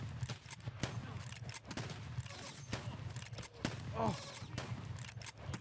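Shotgun blasts ring out in Escape From Tarkov: a run of sharp, close reports in quick succession, set over game noise and a player's brief exclamation.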